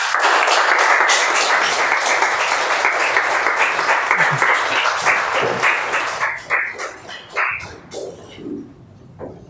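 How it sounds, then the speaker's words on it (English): Audience at a club meeting gives a loud, dense round of applause that tapers into scattered, fading claps toward the end. "please welcome those awards with a round of applause."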